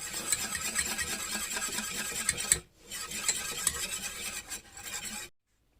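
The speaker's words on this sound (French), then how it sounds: "On mélange bien sa levure et sa farine" Flour and baking powder are stirred together in a bowl, giving a continuous scraping, rasping swish in two bursts separated by a brief pause, close and fairly quiet.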